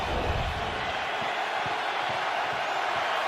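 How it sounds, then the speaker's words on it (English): A stadium crowd at an NFL playoff game between the Rams and Buccaneers roars in a continuous, dense wash of cheering that holds steady and loud throughout, with faint thumps beneath. "Crowd completely back into it."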